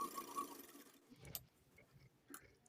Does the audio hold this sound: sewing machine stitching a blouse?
yes